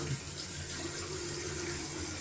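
A cold-water tap runs steadily, water splashing continuously into a basin at close range, with no talking.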